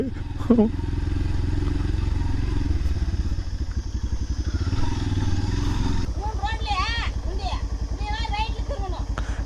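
A motorcycle engine rumbles steadily close by while riding, with a person talking over the engine noise.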